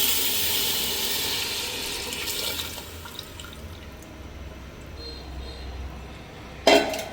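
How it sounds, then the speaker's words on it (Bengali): Water is poured into a pot of sautéed rice and lentils for chicken khichuri, a strong rushing pour for a couple of seconds that fades to a quiet simmer-like hiss, ending in a sharp metallic clank. "চাউল এবং ডাউলটা কষাইয়া এরপরে পানি দিয়ে দেবো"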